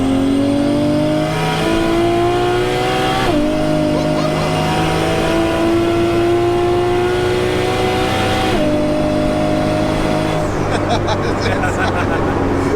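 Nissan S13 with a 1JZ engine and M4 DCT gearbox pulling hard through the gears, loud in-cabin engine drone rising in pitch with quick shift drops and a steady roar, voices talking over it.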